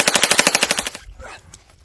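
Rapid automatic gunfire in a video game, a fast regular burst of about a dozen loud shots, then fading into quieter scattered noise.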